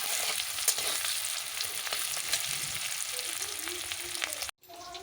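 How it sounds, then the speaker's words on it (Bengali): Chicken frying in a small amount of oil, a continuous close crackling sizzle with occasional spatters and stirring sounds, ending in a brief cut to quiet. "আজকে আমি চিকেন রান্না করছি তো খুব কম তেলেই করবো"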